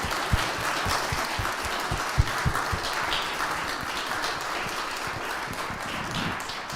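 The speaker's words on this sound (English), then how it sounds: "I myself would like to ask for a round of applause for the finance team" Annual meeting audience applauding the finance team, a steady round of clapping from a moderate crowd with individual claps standing out up front, continuing throughout without speech.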